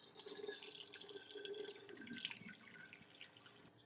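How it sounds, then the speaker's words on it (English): Homemade chicken stock is poured slowly from a pot into a colander over a container, giving a steady splashing, trickling stream of liquid with a few drips, close and moderately loud. "We're going to pour the stock into the colander, and all the liquids are going to be caught in the container underneath."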